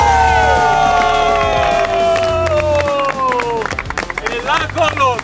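A crowd applauds and cheers at a football challenge held at a villa, with scattered claps thickening toward the end. A loud, falling whistle-like tone runs over the noise, and people talk throughout.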